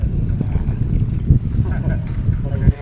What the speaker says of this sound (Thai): ลมแรงมากครับลมแรงมาก อาจจะ เสียงอาจจะอู้อู้เสียงลมนะครับ